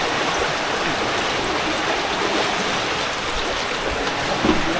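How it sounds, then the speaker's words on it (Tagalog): Floodwater from Typhoon Opong in Occidental Mindoro rushes fast into a flooded house, a steady, dense roar of churning water that stays loud and unbroken throughout, with no talking. "Grabe ang lakas ng tubig,"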